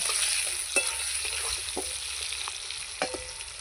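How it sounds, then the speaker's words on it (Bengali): Potatoes and onions frying together in a pan, a soft steady sizzle broken by occasional light scrapes and clinks of a stirring spoon. "পেঁয়াজ আর আলু একসঙ্গে আমি ভেজে নেব"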